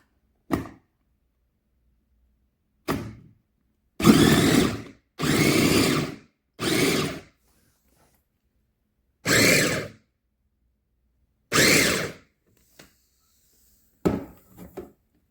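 An electric chopper cutting potatoes in short bursts, about seven separate whirring pulses of a second or so each, separated by silence, loud and close with no talk.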